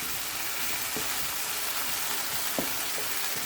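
Tomato paste sizzling in hot oil in a pan while cooking a dhaba-style chicken gravy, a steady close crackling hiss with a few soft stirring scrapes.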